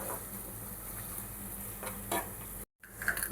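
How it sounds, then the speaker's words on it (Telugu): Onions being stirred with ginger-garlic paste in a pan while cooking a bitter gourd curry, giving a soft steady sizzle with light scraping strokes, a brief gap, then louder clatter near the end. "అల్లం వెల్లుల్లి పేస్ట్ వేసిన నేనైతే ఇలా కలుపుకుంటాను"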